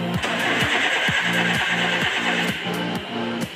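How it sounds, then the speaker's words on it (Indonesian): EFI petrol engine being cranked with the starter during a tune-up check, a steady rhythmic whirring chug repeating about every half second, loud and close, without catching and running. "Langkah berikutnya adalah mencoba menghidupkan mesin."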